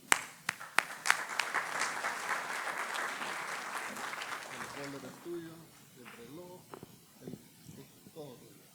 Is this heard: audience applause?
yes